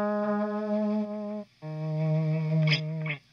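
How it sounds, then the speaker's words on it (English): Electric guitar volume-knob swells with echo delay, hammered-on notes fading in: two sustained, ringing notes with a short break between them, close and fairly loud, with faint repeating echoes near the end. "you'd start with the volume knob all the way down and hammer on a note, and then turn the volume up."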